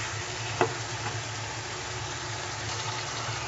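Chicken fries in oil in a karahi over medium heat with a soft, continuous sizzle. A faint low hum sits underneath, and a single brief clink is heard early on.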